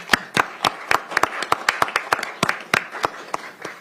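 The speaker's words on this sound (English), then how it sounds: "Give them a round of applause." A small audience at a county council meeting gives a round of applause, a sparse scatter of distinct individual claps with irregular rhythm, close and clear with no talking.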